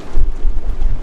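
Strong wind buffets the microphone aboard a Comfortina 32 sailboat at sea, a loud, rumbling low roar that surges and dips with gusts throughout.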